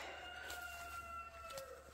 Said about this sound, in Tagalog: yung mga manok dyan.